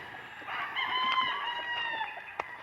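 Several derby gamecocks on a large farm crow and cluck together in a steady, busy chorus, with one sharper call standing out near the end.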